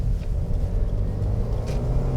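Stock VA-generation Subaru WRX engine accelerating on the road, a loud, close low rumble with a steady drone and slight rises in pitch over two seconds, no talking.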